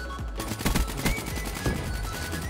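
Gunfire in the video game Call of Duty Black Ops 3: rapid bursts of automatic weapon fire crackle loudly and close, with overlapping shots in quick succession throughout.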